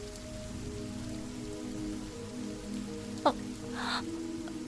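Rain falls in a scene from a Telugu-dubbed sports movie, a soft, steady hiss under faint sustained background tones, with one brief sharp crack partway through.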